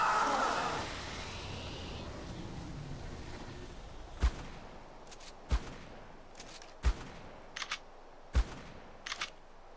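Gunfire in Ark Survival Evolved Aberration. A sustained noisy burst comes first, then about half a dozen sharp, separate shots ring out at irregular intervals, with a couple of quick doubles.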